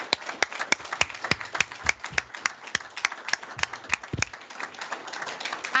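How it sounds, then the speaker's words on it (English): A small group of councillors clapping at a council meeting, sparse, distinct individual claps in an uneven rhythm, close and fairly crisp, with no speech over them. "can I ask councillors to all join me in giving a well-deserved round of applause for Hazel"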